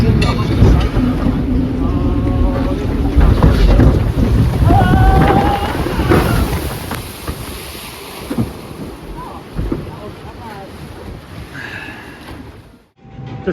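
A theme park boat ride at Chessington glides across the water, with steady wind buffeting the microphone and splashing throughout, and faint voices underneath.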